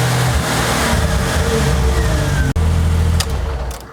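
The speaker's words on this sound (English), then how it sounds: "When you saw the RPMs just drop a little bit right there, that's the hesitation I'm getting." A Jeep 4-liter engine revs under load with a hesitation, its droning tone wavering and briefly cutting out, loud and close before the revs drop and fade.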